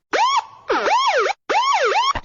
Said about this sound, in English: We do need another siren sound effect